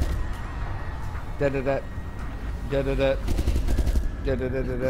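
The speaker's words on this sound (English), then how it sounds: "Oh, they just shoot everybody in the place." Gunfire from the video game Resident Evil Revelations 2 sounds in several short bursts of rapid shots, mixed with game noise and voices talking over it.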